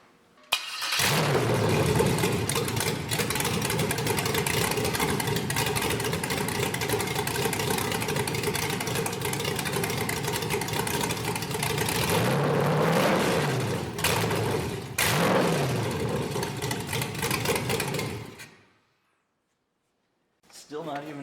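A 5.3L LS truck engine running on MegaSquirt 2 with idle-air control, a steady loud mid-range drone that dips and wavers near the end before cutting out abruptly to silence, with a brief restart at the very end.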